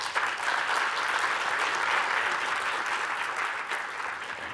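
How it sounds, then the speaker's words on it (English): Applause from the audience after a talk at a sustainability summit, a dense and even wash of clapping that holds steady for several seconds and eases off slightly at the end. "A round of applause."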